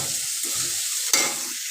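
Onions fry in hot oil with a continuous close sizzle, and a single brief scrape of a utensil comes midway.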